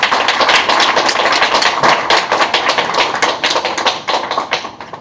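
Audience applause welcoming a speaker onto the stage at a tech seminar, a dense, steady wash of many hands clapping close by, continuous for the whole stretch and fading slightly near the end.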